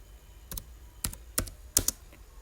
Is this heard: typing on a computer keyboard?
yes